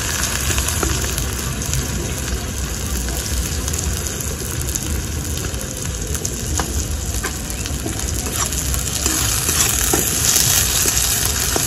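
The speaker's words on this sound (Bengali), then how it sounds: "পেঁয়াজ কুচিটা দিয়ে দেবো তেলের মধ্যে" Chopped onion with a dried red chilli sizzles in hot oil in a pan. The frying makes a steady, dense crackle from start to finish, close and fairly loud, with no talk.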